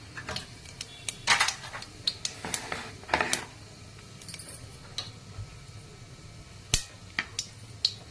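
Mustard seeds and cumin crackle and pop in hot oil, scattered sharp little bursts close up, clustered at first and then sparser, with no talk.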